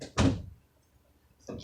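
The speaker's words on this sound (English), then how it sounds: "can you shut the door?" An interior door shuts with a single solid thunk, followed by a brief quiet pause and a second softer knock or bump at the close.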